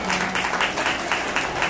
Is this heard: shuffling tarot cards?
no